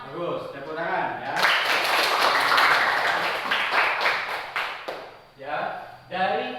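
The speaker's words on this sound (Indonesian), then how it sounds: "Bagus, tepuk tangan, ya." Students in an Indonesian classroom clap together in a dense burst lasting a few seconds, loud and close, with a teacher's speech before and after it.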